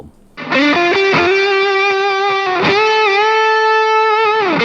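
A Kazuki Rought Stone electric guitar played through heavy distortion rings out loud and close, a few picked notes then sustained chords held with a thick, buzzing overdriven tone.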